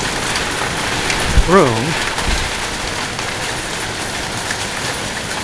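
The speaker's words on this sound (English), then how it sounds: "You see all that hail that's bounced in my" A hailstorm pelts surfaces with a dense, steady, hissing patter of impacts. A voice speaks briefly near the start, and a faint vehicle-like rumble passes underneath.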